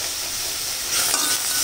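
Green chilies and garlic dry-roast in a pan without oil while being stirred, giving a steady soft hiss and scraping rustle that swells slightly toward the end.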